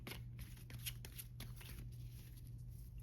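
Tarot cards being shuffled by hand, a steady run of soft riffling and flicking bursts close by over a low constant hum, with no talking.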